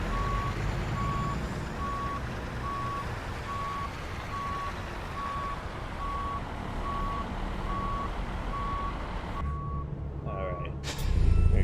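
Steady, evenly spaced reversing beeps from a Freightliner Cascadia backing up in American Truck Simulator, sounding over a diesel idle rumble, then an abrupt burst of noise at the very end.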